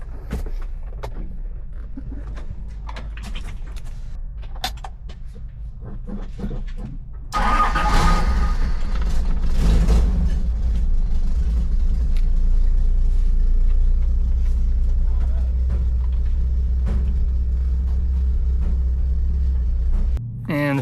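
Toyota Land Cruiser 70 series starting up, then a steady, loud, low engine rumble as the truck moves off while four-wheel drive is checked. Soft clicks and handling noises come first, and no voices are heard.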